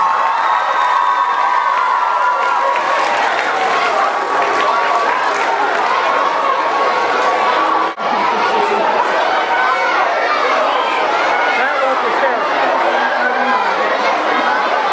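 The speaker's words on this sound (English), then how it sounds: "Give a round of applause for our superstars." A school crowd at an elementary test-prep pep rally cheers and claps for kindergarten children, with loud, continuous chatter, shouts and high children's voices mixed into one constant roar, briefly dipping mid-way.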